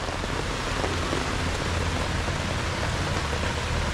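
Heavy rain pours steadily over a vegetable garden, a dense unbroken hiss with a low rumbling undertone throughout, no voices.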